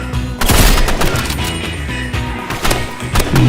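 Rapid video game gunfire around a sniper position, loud dense bursts of shots and impacts running nearly continuously and close up.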